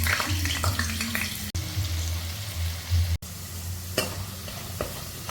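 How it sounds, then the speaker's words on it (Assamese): Potatoes frying in oil in a wok, a steady dense sizzle with scraping and stirring clatter throughout, with two brief dropouts in the sound. "এতিয়া আমাৰ আলুখিনি ফাৰ্ষ্টতে ভাজি ল'ম।"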